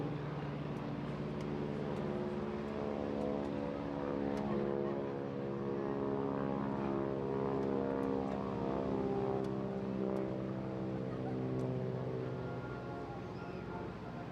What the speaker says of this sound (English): whilst Brian and Dave reposition the aircraft